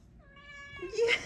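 A kitten meows indoors, a single drawn-out mewing call followed by a louder, rougher cry at the end, close and clear with no talking over it.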